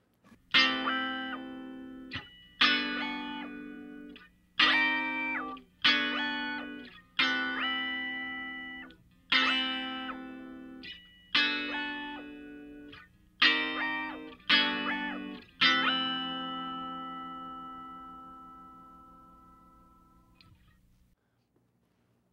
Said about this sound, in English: I'm going to combine dry output with a voice that's a fifth above the guitar's pitch. And I'm going to do an octave bend on that voice.